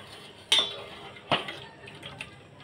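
A spoon stirring jaggery soaked in water with milk strikes the vessel in two sharp metallic clinks, followed by a few softer taps against a quiet background.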